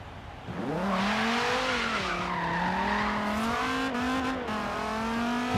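A Dodge Viper with a V10 engine races in Forza Horizon 3, its engine note rising as it revs up and then holding a loud, steady, throaty drone with small pitch shifts between gears.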